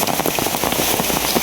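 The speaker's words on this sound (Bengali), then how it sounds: "প্রচুর পরিমাণে বৃষ্টি" Heavy rain pours down in a dense, loud, continuous patter of drops striking surfaces close by.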